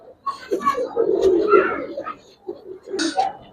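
Giribaz and colored pigeons coo in a low, throaty way at a pigeon sale. The cooing is close and comes in a couple of short bursts, mixed with speech-like voices.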